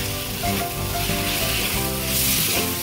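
Chopped tomatoes sautéing in a pan for a fish curry with raw mango, giving a loud, close, continuous sizzle with faint stirring over a few seconds.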